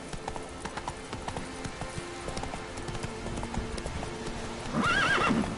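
Horse hooves clip-clop at a steady trot in The Witcher 3, close and even, and a short whinny rises near the end.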